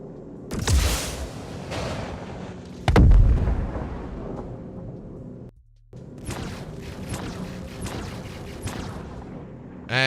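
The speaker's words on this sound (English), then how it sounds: "3, 2, 1, missiles away." Missile launches in a space combat video game fire off as booming blasts, two heavy bursts close together followed by a brief silence and a cluster of sharper crackling pops and explosions.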